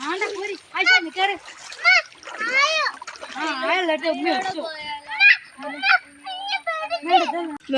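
Children play and splash in a stream, with excited high-pitched shouts, squeals and chatter close by in an outdoor setting.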